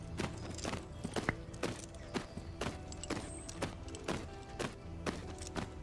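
A horse in a video game walks slowly with an even clip-clop of hooves, about two steps per second, crisp and close against a quiet background.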